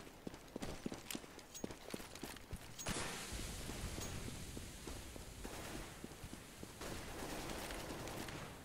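Gunfire and footsteps in a Counter-Strike: Global Offensive grand final match, Natus Vincere vs. Dignitas, with an AK-47 in play: a quick run of sharp shots and steps, then a denser steady clatter of in-game action.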